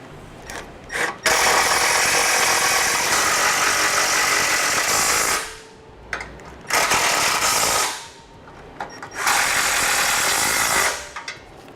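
A ratchet driving a 13 mm socket on an extension as bolts fasten a Blue Ox base plate onto a 2011 Chevrolet HHR, long loud stretches of rapid ratcheting clicks broken by short pauses, close up and alone.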